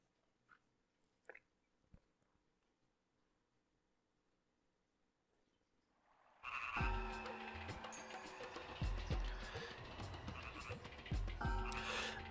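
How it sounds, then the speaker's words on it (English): Quiet at first, then a dense, loud chorus of frogs croaking erupts and continues steadily over an ambient soundscape in the game Grandia. "I hear frogs."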